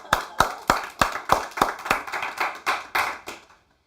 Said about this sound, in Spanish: démosle un aplauso a las madres